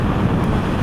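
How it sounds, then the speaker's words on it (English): Heavy wind buffets a rider on a 2021 Yamaha MT-07 motorcycle at highway speed, a loud, steady roaring rumble of air against the microphone with no pauses, close and unbroken. "the wind is hitting me like dead in the chest"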